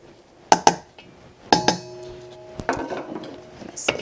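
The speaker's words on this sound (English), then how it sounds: "Stir that together." Spoon or whisk clinking against a bowl while powdered sugar and cocoa powder are stirred together for bourbon balls, with several sharp knocks early on followed by quieter scraping and rattling.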